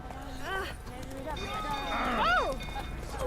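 Roach the horse galloping in The Witcher 3: a quick hoof rhythm under loud game voices and a man's speech, with tonal vocal sweeps over the hoofbeats.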